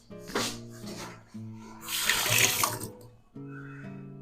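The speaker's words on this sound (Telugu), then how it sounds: "వాటర్ మసులుతున్నాయి, బియ్యం వేసుకుందాం మనము." Water churns and bubbles steadily in a pot on the stove while chicken biryani is being cooked, a loud, continuous watery rush that swells midway and then settles again.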